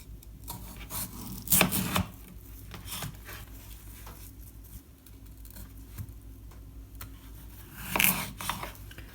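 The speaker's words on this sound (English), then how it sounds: "Cut them into even sized chunks." A knife cuts washed large potatoes into chunks, giving a few sharp, close chopping knocks, one near the start and another toward the end, with a quiet rustle in between.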